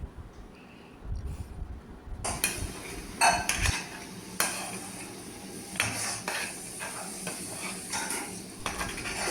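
A spoon clatters and scrapes against a pot as buttermilk curry mixture is stirred into Punjabi dahi pakora curry, giving repeated close metallic knocks over a low background hiss, with no talking.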